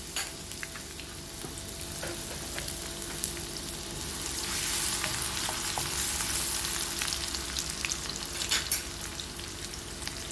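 Chopped green chili frying in oil for a prawn pouch filling, a dense, steady sizzle up close with occasional spatula scrapes and ticks, swelling slightly midway, with no voices.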